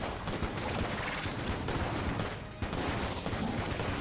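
Rapid gunfire and explosions from the Enter The Gungeon video game crackle as dense overlapping bursts, with a brief dip midway before the barrage resumes at full intensity.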